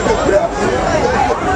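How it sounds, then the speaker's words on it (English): A diverse crowd gathering at the South by Southwest 2010 meet and greet, steady close babble of many overlapping voices filling the whole short stretch. "Lots of people gathering. Diverse crowd as we move through."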